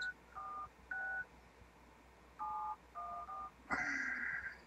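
Telephone keypad dial tones as someone calls in to a radio show: a quiet string of short beeps in uneven groups, then a longer, louder tone at the end.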